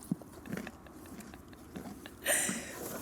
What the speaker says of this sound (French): Non mais on les croque un par un, hein.